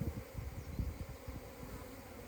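Dense, steady buzzing of many honey bees, close and continuous, a low droning hum with individual wingbeats rising and falling throughout.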